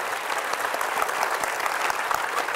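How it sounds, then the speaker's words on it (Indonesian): Studio audience giving dense, steady applause, many hands clapping together at even loudness for a couple of seconds. "Kasih tepuk tangan dong."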